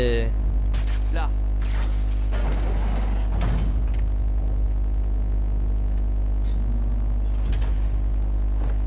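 A hidden door grinds open in the PS4 game Spider-Man, with heavy mechanical creaking, scraping and rumbling over a constant deep drone, loud and close, while voices speak now and then.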